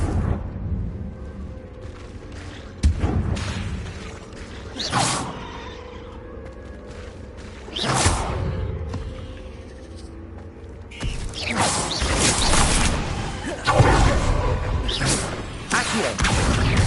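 Confringo blasting spells fired in Hogwarts Legacy burst as loud, booming explosions, several separate blasts a few seconds apart, then a denser run of crashing impacts near the end over steady background rumble.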